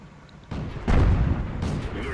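A light tank's cannon fires a round in an armored-vehicle video game, a low booming blast that rolls out over background noise, with game ambience and a few later thumps behind it.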